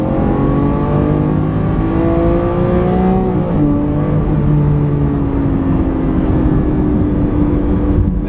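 Lamborghini Aventador naturally aspirated V12 revving past 6,000 RPM, a loud, steady high-pitched engine wail with rising harmonics that hold and sweep slightly for several seconds, close and continuous without speech.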